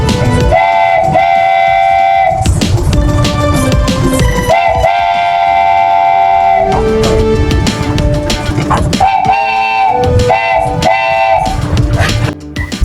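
A toy train ride at the Chennai Rail Museum: loud, repeated tonal whistle or horn blasts sound in several bursts over the steady clatter of the running train.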